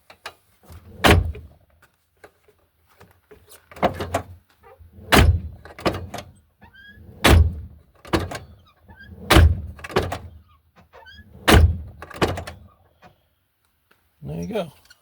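The door of a 2002 Chevrolet Silverado extended cab is pushed shut over and over, giving about seven loud, separate thunks at fairly even intervals with short gaps between them.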